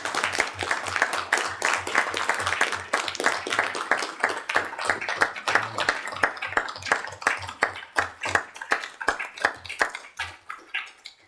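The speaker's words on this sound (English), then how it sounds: "In a round of applause, please." Applause in a council chamber from a modest group, individual claps clearly distinct and rhythmic, starting full and thinning out toward the end as fewer people keep clapping.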